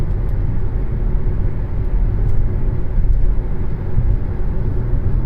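Steady, close road and engine rumble from inside a moving 2007 BMW X3 3.0si with a fault that keeps it from accelerating past 5 mph and makes it rattle, continuous and loud with no talking.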